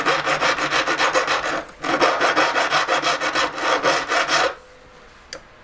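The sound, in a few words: hand file filing a cast ring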